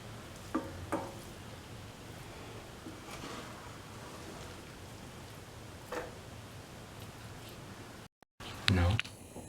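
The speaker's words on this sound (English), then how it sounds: "Put in all the rice, mix occasionally." Rice being stirred and turned over in a frying pan for an eggplant fried rice, a steady soft sizzle and hiss with a few scraping stirs, one louder clatter near the end.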